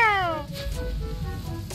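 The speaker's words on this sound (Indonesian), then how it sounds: "lu tau kan suara-suara merdu kucing kawin" A single cat gives a short, drawn-out mating yowl that slides downward in pitch, close and fairly clear, fading into faint background noise.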